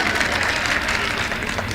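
Audience members at a mushaira poetry gathering applaud, a short, dense burst of clapping that stays steady and fairly loud throughout.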